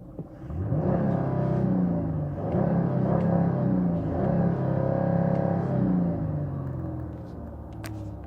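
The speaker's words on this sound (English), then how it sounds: "This V6 roars like a V8." A 2005 Dodge Magnum STX V6 engine revs several times in a row, each rising and falling growl deep and throaty, heard fairly close with no talking.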